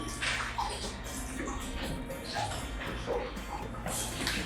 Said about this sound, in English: I pour into it water from the tap